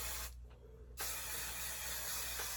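Hairspray sprayed onto braided hair in one long, loud aerosol hiss after a short puff and brief pause.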